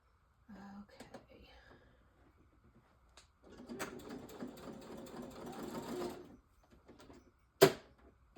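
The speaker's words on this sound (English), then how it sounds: "let me see if I can sew a line on this. And maybe not tear up my machine." Sewing machine stitching a line through waxed fabric, a steady close mechanical whir running for a few seconds after faint soft speech, then a sharp clunk near the end.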